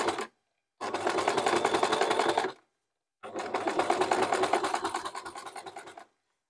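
A sewing machine stitching thick fabric in a circle for a crossbody bag, running in three bursts with pauses between them, a steady fast mechanical whir close up.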